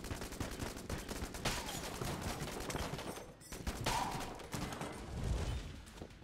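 Rapid gunfire from a gun in Enter the Gungeon, dense bursts of shots running almost continuously at moderate volume, with no talking.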